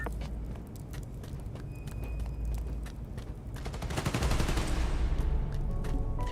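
Gunfire from the video game Spider-Man: Miles Morales crackles as a dense, continuous stream of rapid shots and clatter that swells toward the end, mixed with game effects and no talking.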